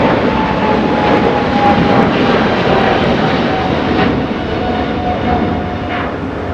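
An All Nippon Airways Boeing 777 taxis at LAX, its loud, steady jet engine roar filling the scene and easing slightly near the end.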